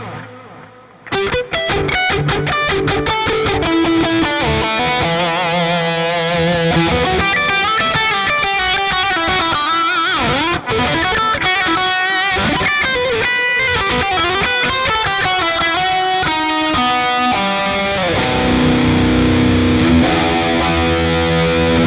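An electric guitar played through a Neural DSP Plini X plugin plays a busy, distorted passage drenched in effects and reverb, loud and continuous with no voices.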